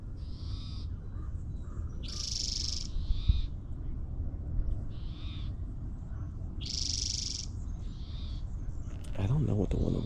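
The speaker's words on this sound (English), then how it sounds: "If I just stand still, all you can hear is the bird calls." Repeated bird calls ring out over a low outdoor rumble, short bursts recurring every second or so at moderate distance.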